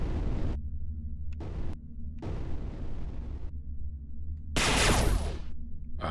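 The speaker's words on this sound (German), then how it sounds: "das war der Schuss" Space shooter Everspace 2 fires a weapon in heavy, booming blasts, several low thuds in sequence, then a bright, hissing discharge near the end.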